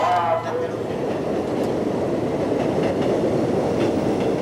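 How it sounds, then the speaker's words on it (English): New York subway number 6 train on elevated tracks, a loud continuous rumble with clattering wheels that runs steadily throughout. "This number 6 train will be going to Woodlawn and Jerome."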